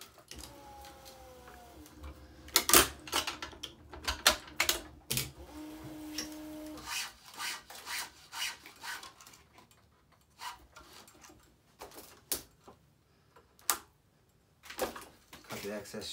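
Tennis string is woven through the cross strings of a Wilson nCode nPro racquet, giving repeated close scraping and rubbing strokes with light taps, under intermittent talk.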